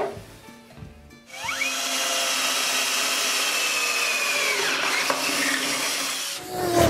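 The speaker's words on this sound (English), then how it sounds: "I'm gonna drill some holes and put some bolts in there and bolt this piece of plywood" A power drill bores holes through a piece of plywood being bolted to a tricycle handle, a steady whirring drone with rising pitch sweeps that runs for about five seconds after a brief quiet start, then winds down.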